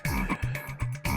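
A cartoon frog croaks in a rapid run of loud, close, throaty croaks with short gaps between them, alone with no talking.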